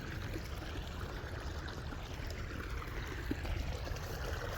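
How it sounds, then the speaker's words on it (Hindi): Irrigation water flows steadily into a farm field, a continuous broadband rushing and gurgling, moderately loud and close, with no talk. "पानी बड़े ही प्यारे अंदाज में हमारी खेत में जा रहा है।"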